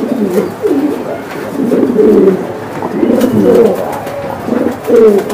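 Pigeons coo steadily and close by, soft throaty rolling calls repeating and overlapping without a break, with no one speaking.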